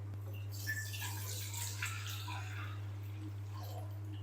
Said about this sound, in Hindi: यहाँ पर मैंने एक कढ़ाई ले ली है और इसके अंदर हम ऐड कर देंगे पानी